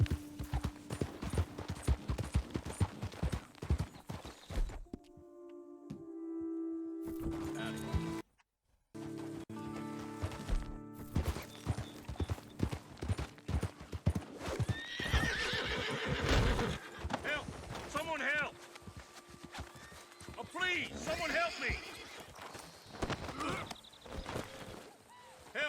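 A horse in Red Dead Redemption 2 clip-clops along with hoofbeats, then neighs and whinnies loudly, with rain pattering and voices talking over parts of the scene.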